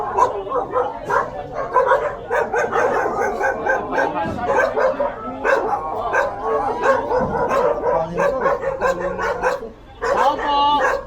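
A dog barks and yips repeatedly, close by and loud, with people talking over and between the barks throughout.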